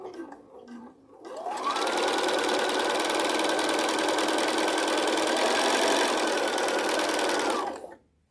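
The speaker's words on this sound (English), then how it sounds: "we're going to sew corner to corner" A sewing machine runs steadily, stitching fabric corner to corner in a quilting session, a loud, continuous mechanical whir lasting several seconds before stopping.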